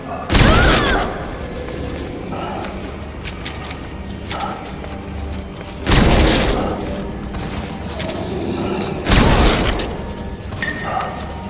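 Gunfire in Metal Gear Solid V, with three loud booming bursts of shots around the start, middle and near the end, and scattered game sounds and voices in between.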